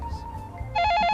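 A telephone rings in a sudden loud burst of rapid warbling electronic tones that cuts in after a brief low murmur, close and clear.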